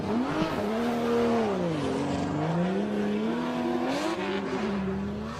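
A drift car's engine revs hard and climbs in pitch as it launches onto the track, a loud, continuous wavering drone with rising and falling tone heard up close.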